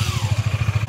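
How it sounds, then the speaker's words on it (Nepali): A motorcycle engine runs with a steady low pulsing rhythm as it is started for a group ride, close and fairly loud, with no voices over it. "बाइक स्टार्ट गर सबैजना"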